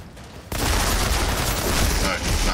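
Dense, sustained gunfire from the shooter game Outriders, a loud continuous fusillade that bursts in after a brief quieter lead-in and keeps rattling close and heavy to the end.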